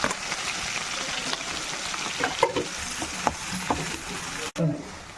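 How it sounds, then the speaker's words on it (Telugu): Green chillies and chopped onions hiss and sizzle steadily in hot oil, tempered for a wedding-style boti fry, with a few sharper spatters and stirring clinks close by. "ఆనియన్స్ తాలింపు వేయాలి."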